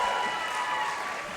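An audience at a high school band spring concert applauds, a faint, steady wash of clapping heard from a distance in the hall that fades slightly toward the end.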